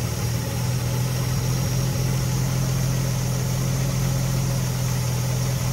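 A Triumph TR6 petrol injection engine idles at low revs, around 600 RPM, with a steady, close, even rumble and no voices.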